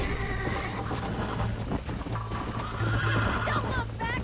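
A horse gallops and whinnies in the Red Dead Redemption video game, with rapid rhythmic hoofbeats and repeated neighs over music and game sounds, close and steady throughout.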